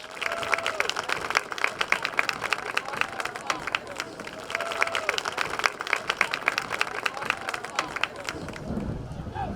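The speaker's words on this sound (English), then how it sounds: "a big round of applause for our senior cheerleaders and football players" A crowd at a high school football game claps and cheers for senior cheerleaders and football players, sustained applause from many people with scattered voices mixed in.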